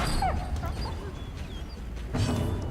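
Sad dog whimpering in the video game Darkest Dungeon, a few short high whines and yips over a low droning game background, brief and moderately loud.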